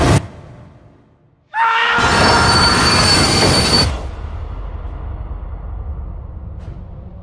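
A train roars past at close range with squealing wheels and rattling carriages, loud for a few seconds before fading to a steady rumble.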